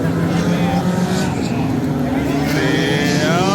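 Stock cars in a figure 8 race roar steadily at close range, a constant loud engine drone with rising whine as cars pass, voices talking over it.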